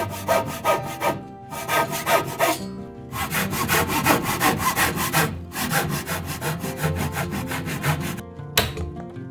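Handsaw cutting wooden door frame pieces to length, a fast rhythmic rasp of back-and-forth strokes with brief pauses between runs, close and loud, no talking.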